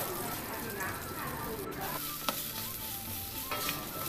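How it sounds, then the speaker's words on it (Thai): Pounded Thai curry paste stir-fried in a little hot oil gives a continuous close sizzle with faint scraping of stirring, a couple of sharp crackles, and some speech in the background. "พอน้ำมันร้อนเราก็ใส่พริกแกงที่เราตำไว้ลงไป ผัดหรือคั่วให้มันหอม"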